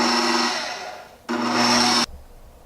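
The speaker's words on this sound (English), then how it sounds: "I'm using the medium-low setting on my KitchenAid for this" A KitchenAid stand mixer on a medium-low setting whirs steadily while beating powdered sugar into buttercream, running in two loud bursts with a short dip between them before it cuts off.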